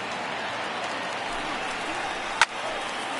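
Stadium crowd of about 33,000 at a baseball game in MLB The Show 19, a steady, dense roar of cheering and murmur filling the whole stretch, with one sharp crack near the end.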